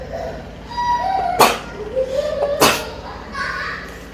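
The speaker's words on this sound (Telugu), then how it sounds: "తుమ్మొచ్చింది" Two sharp, loud sneezes burst out about a second apart, with talking and household noise around them.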